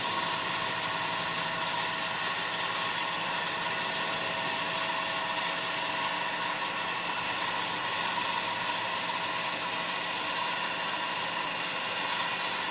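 A three-phase induction motor runs unloaded at its rated 415 volts: a constant, dense mechanical hum and whine at steady loudness for the whole stretch, with no talk over it.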